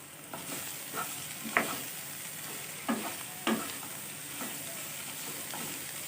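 Ingredients for an Assamese curry fry and sizzle steadily in a pan, broken by several brief scraping stirs at irregular intervals, close and moderately loud with no talking.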